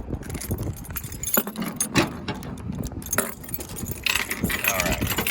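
Keys jangle and clink while unlocking the locks that hold propane tanks on a welding rig, metallic rattles coming in bursts close by over a low background rumble.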